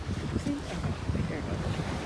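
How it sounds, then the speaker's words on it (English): Sea breeze blows by the water at Dragon Bay beach in Grenada, a rough, gusty rumble of wind on the microphone over the wash of surf that stays fairly loud throughout. "There's a breeze."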